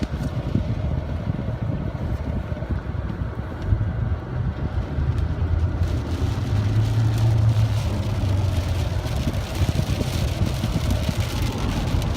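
Heavy rain pours down during a severe thunderstorm with flooding, a dense, steady roar that stays loud and continuous throughout with no voices.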